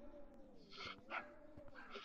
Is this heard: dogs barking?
yes